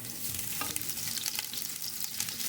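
Ginger fries in hot olive oil in a new casserole, giving a steady, close sizzle with bursts of crackling and occasional stirring scrapes and no talk.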